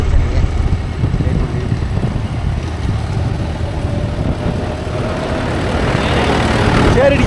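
A Mahindra 415 DI tractor driving a 36-blade Gomathi rotavator rumbles steadily in a farm field, its low engine drone constant and fairly loud, with a voice talking over it.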